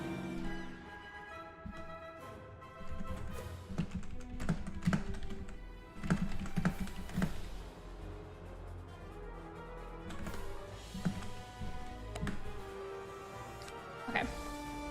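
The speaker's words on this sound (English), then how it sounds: "She keeps walking across your keyboard." Keys on a computer keyboard clatter in irregular bursts and single taps as a cat walks across it, close and fairly quiet, with game music and occasional voices underneath.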